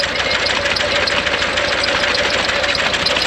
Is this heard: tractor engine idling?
yes